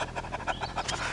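A man imitates a dog panting with his voice, a quick run of about eight rhythmic breathy huffs, close and fairly loud, lasting just over a second.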